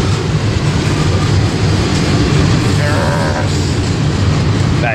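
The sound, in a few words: Norfolk Southern freight train passing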